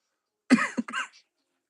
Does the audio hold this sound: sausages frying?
no